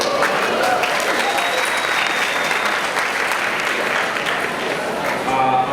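Sustained audience applause at a law lecture in a university hall, steady dense clapping filling the whole stretch at an even, loud level with no pauses.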